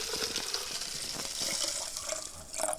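Chillies are washed under running water, with a continuous close splashing and trickling at low level, with no talking.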